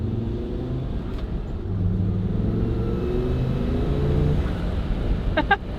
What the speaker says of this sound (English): Maybe a little boost leak.